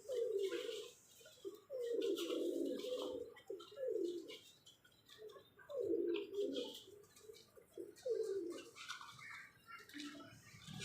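Soft, low pigeon coos repeat in short rounded phrases, close by, from a yellow-eyed female pigeon, with faint chirps and rustling in the background.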